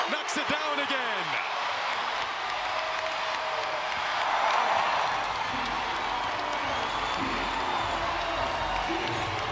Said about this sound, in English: This crowd really alive now.